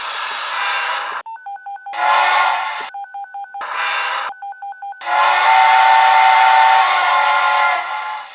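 An HO scale model steam locomotive with DCC sound gives loud whistle blasts alternating with rhythmic electronic beeping tones, ending in a long sustained steam whistle.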